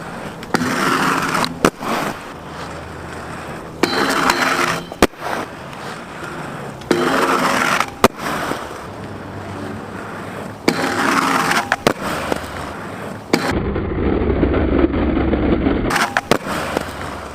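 Skateboard backslides on pavement, heard as a run of loud, close rolling rumbles and grinding slides, each ending in sharp clacks as the board lands or hits the ground, repeated several times.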